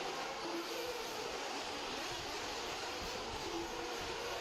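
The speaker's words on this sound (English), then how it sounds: "Sound like the rain's coming down even harder, doesn't it?" Heavy rain pours down at an outdoor dirt RC car race in a steady, dense hiss, a constant rushing wash without pauses.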